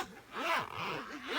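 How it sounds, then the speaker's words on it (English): A zipper drawn along a RayMay traveler's notebook zipper cover, one close, quick rasping pull lasting about a second and a half, alone without talk. "let's zip that up"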